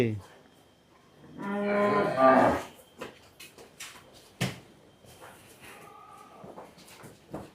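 A sacrificial cow on a farm gives one loud, drawn-out moo up close, followed by quieter shuffling, knocks and faint background voices.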